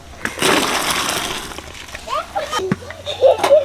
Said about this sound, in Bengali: কাবলি ছোলা আলু সেদ্ধ হয়ে গেছে জল ঝাড়ি নিচ্ছি